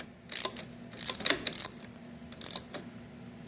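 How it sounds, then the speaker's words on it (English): A ratchet tightens bolts on a Kubota B3000 tractor, with short, fairly faint bursts of rapid clicking separated by brief pauses. "I don't usually ratchet with my left hand."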